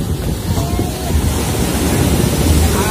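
Continuous rushing ocean surf roars close by during a boat trip, mixed with buffeting wind noise on the microphone, with no distinct breaks between waves.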